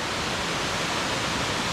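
Steady, dense roar of a waterfall on a mountain trail, loud and close with no other sounds.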